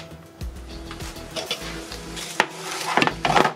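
Bacon frying in a pan at home, a quiet sizzle under scraping and stirring with a utensil, several light knocks of metal on the pan, close by.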